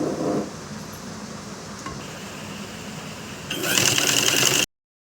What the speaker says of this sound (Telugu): దీని మీద టాప్ స్టిచ్ వేసుకోండి.